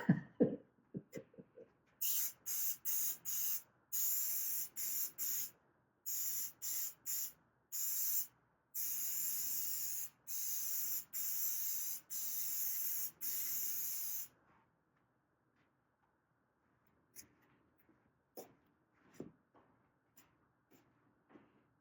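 Spray can laying a final coat of paint on a mandolin, a series of short and long hissing bursts with brief pauses between them, followed by quiet with faint handling noises.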